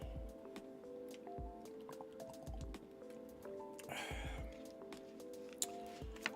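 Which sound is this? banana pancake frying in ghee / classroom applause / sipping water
sipping water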